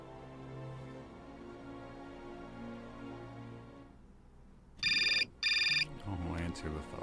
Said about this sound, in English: Oh, answer the phone.